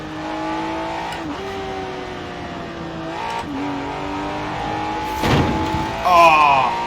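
A race car in a racing video game played on a Thrustmaster TMX force-feedback wheel with manual clutch, drifting in third gear: a droning engine note that shifts pitch as revs change, with short tire squeals and scrapes near the end.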